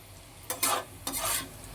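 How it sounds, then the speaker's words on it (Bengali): Potatoes frying in a small wok with a soft sizzle beneath, broken by two scraping stirs about half a second apart, close by and with no talk. "দেখো আলুটা আমি একটু ভেজে নিচ্ছি লাল লাল করে"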